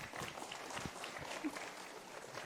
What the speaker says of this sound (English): let's have a big round of applause for Mars